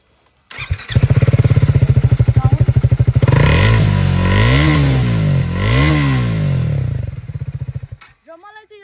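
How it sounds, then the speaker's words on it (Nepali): A Triumph Speed 400 single-cylinder motorcycle engine starts with a brief crank, then settles into a loud, steady idle with a few throttle blips rising and falling before it cuts off abruptly. "तपाईहरुलाई चाहिँ म बाइक पनि स्टार्ट गरेर देखाउने वाला छु यसको चाहिँ साउन्ड हुन्छ"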